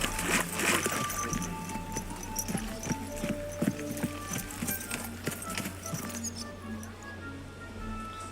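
Hooves clop in a steady walking rhythm in a video game, over a low background hum, with faint tonal chimes and a soft voice murmuring beneath.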